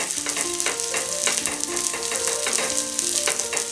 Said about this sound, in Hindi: घी डालेंगे, रोटी लेंगे, रोटी को तवे पे डालेंगे, रोटी की दूसरी ओर घी लगाएंगे